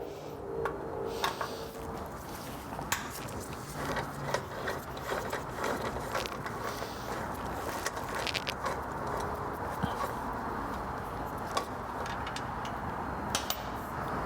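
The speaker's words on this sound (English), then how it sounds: "So I'm going to get all but one of these fasteners off." A hand ratchet backing off the fasteners on a Vespa GTS scooter muffler, quick clicking bursts repeating close by over a low ambient background, with occasional metallic taps.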